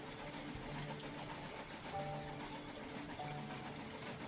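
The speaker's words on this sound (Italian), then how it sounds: "Intanto sta passando un altro treno qui." A train rolls past in the model-railway building game Station to Station, a steady rumbling clatter with faint repeating clicks and hums that holds at an even level throughout.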